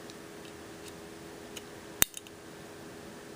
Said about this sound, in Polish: taki klik słyszycie